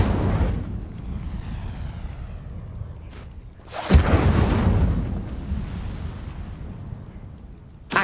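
Incendio fire spell cast in Hogwarts Legacy, a loud whooshing burst of flame erupting midway after a rumbling lead-in, then a sustained roar that slowly fades.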